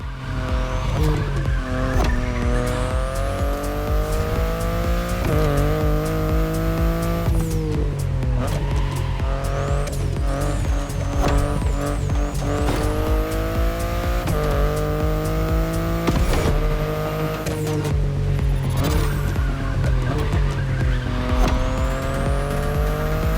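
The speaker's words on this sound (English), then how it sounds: "Only two models came out of it, the compact i3 and the i8, the sports car you're driving" A BMW i8 hybrid sports car in The Crew Motorfest racing game, its engine note rising and falling through gear shifts while the tires squeal repeatedly through turns, loud and continuous throughout.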